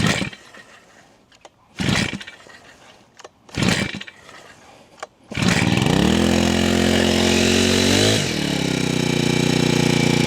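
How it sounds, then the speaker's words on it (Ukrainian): Grand BG 5700 four-stroke petrol brush cutter: several short pull-start tugs, then the engine catches and runs loud and steady, its pitch rising briefly before settling back. "За стартер не смикаємо зразу, підводимо, щоб все пішло в зацеп, трішки, щоб загасилась компресія, і десь з такого положення заводимо."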